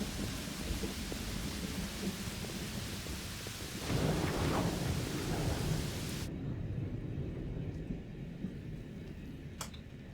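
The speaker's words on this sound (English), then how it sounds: "we're going downstairs because the lightning is really annoying" A thunderstorm in Pathfinder: Wrath of the Righteous, with steady heavy rain and a deep rolling thunder rumble swelling midway, then the storm cutting off abruptly to a quieter interior ambience.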